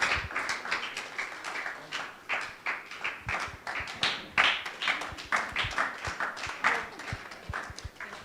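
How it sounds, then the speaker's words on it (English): Scattered church audience applause as a reverend walks to the podium, individual claps distinctly audible in an uneven, moderately quiet pattern that continues throughout. "please let's give him a round of applause as he comes to the podium"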